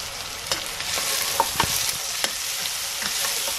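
Onions with salt stirred and frying in coconut oil in a pan, a steady close sizzle with scattered scraping clicks from stirring and no voices.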